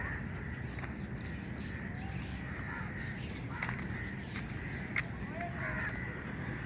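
Crows caw repeatedly among trees in a park at the Kamran Ki Baradari in Lahore, mid-distance calls scattered over a constant outdoor murmur.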